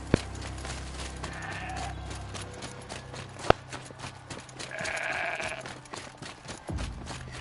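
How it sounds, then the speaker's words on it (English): Goat bleats in a PS4 video game set in mountainous, forested terrain, two bursts of bleating over steady game ambience with hoof-like clip-clop and a sharp click midway. "Get to chase a goat."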